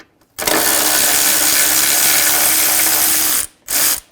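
Power ratchet with a 10mm socket spinning out ABS bracket bolts on the front suspension of a 2003-2008 Honda Pilot; one loud sustained whirring run of about three seconds, then a short second burst, close up with no talk.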